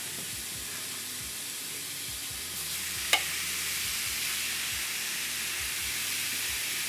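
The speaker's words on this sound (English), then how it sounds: "You should hear that nice sizzle" Steady, loud sizzling of steak searing in hot butter in a pan, a continuous crackling hiss with a single sharp click partway through.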